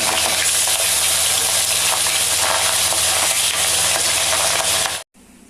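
Pabda fish curry bubbling and sizzling in a pan, a steady loud broadband hiss that runs unbroken for about five seconds before cutting off abruptly.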